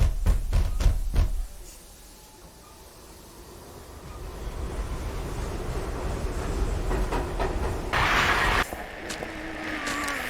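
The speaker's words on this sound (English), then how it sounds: "that's how we call the train to get out of here" A train arrives in the video game Silent Hill 3, opening with a few sharp knocks. A low, steady rumble of rolling carriages follows, growing slightly louder, with a brief hiss near the end.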